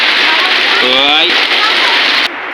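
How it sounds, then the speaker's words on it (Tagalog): Heavy rain pours in a loud, steady wash of hiss that covers everything, with a brief voice-like sound partway through and a sudden drop in level near the end. "grabe lakas ng ulan"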